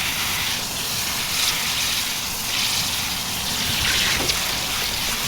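Pool water gushes and splashes over a tie-dye t-shirt being rinsed outdoors, a loud continuous rushing with surging swells and a faint background drone, no voices.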